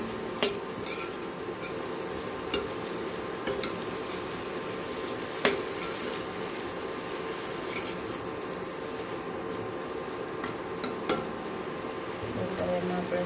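A spoon scraping and stirring spices into a green chilli mixture in a pan, with a steady background sizzle, occasional light clinks of utensil on metal, and faint voices.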